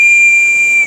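A single loud, steady, high-pitched whistle sounds for under a second from a compression whistle set in a spark plug hole of a Packard Straight 8 engine, then cuts off sharply.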